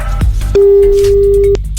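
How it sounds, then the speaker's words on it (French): A telephone line tone rings out on an unanswered radio contest call: a single steady electronic beep lasting about a second, framed by faint clicks and low line noise. "Et ça répond pas chez les Martins"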